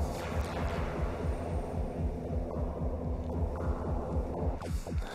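Synthesized bass tone with added reverb, a deep, continuous throbbing hum that pulses rapidly and evenly throughout, dense and steady with no voices.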